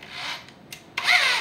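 A drill bit bites and grinds into a broken exhaust manifold bolt through a drill guide, giving a rough rasping burst, a brief lull and a louder, harsher scraping stretch as the bit catches and slips.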